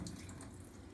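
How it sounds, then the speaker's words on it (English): Water being strained off raw almonds and cashews that soaked overnight in filtered water, a steady close running pour with no voices. "And now I'm simply going to strain them"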